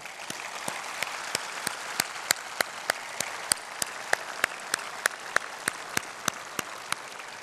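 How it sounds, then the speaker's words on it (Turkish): A graduation ceremony audience applauds university faculty and administrative staff, a steady wash of distant crowd clapping with a few sharper individual claps standing out close by. "Öğretim üyelerinizi ve başta Genel Sekreterimiz Haluk Bal olmak üzere üniversitemizin idari personelini gelin hep beraber alkışlayalım."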